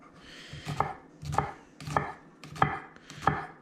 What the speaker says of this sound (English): quick tutorial on how to cut an onion